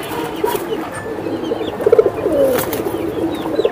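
Silver Giribaz pigeons cooing among other birds at a pigeon sale, soft repeated coos over busy background noise with a few louder bursts, no clear talk.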